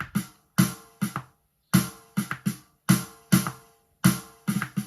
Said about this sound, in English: Okay, the snare drum, this is probably the most important.